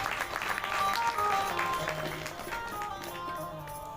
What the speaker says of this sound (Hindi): उनके लिए एक ताली बजा दीजिए।